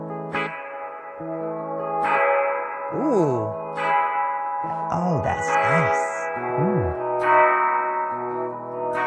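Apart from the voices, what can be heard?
spring reverb effect with infrared sensors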